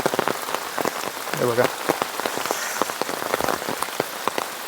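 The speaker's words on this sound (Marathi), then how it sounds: "भरपूर दिवसानंतर जो पहिला पाऊस पडतो" Heavy first monsoon rain pours in the Konkan countryside, a dense, close patter of drops on surfaces. A brief spoken phrase comes over the steady downpour.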